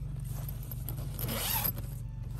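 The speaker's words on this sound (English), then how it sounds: "Zippers seem to be decent quality." Zipper on a VW Eurovan pop top camper tent being pulled, a close rasping zip that builds over the clip above a steady low background hum.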